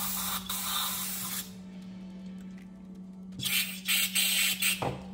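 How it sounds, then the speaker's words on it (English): Carb cleaner hissing from an aerosol can onto parts of a 2007 Toyota Camry LE with the 2.4-liter 2AZ-FE engine during PCV valve work, in two loud sustained sprays separated by a quieter pause over a steady low hum. "I have some carb cleaner. And I'm just gonna spray it right on here like that."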